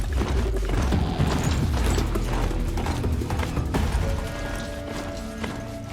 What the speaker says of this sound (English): Ride! This Strider is fast! This beats walking.